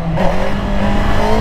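A motorcycle engine pulls in first gear, loud and close, with a steady droning note over the short stretch.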